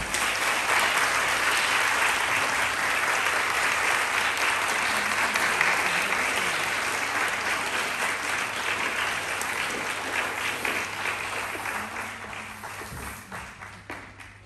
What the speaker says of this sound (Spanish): más aplausos, ¿no?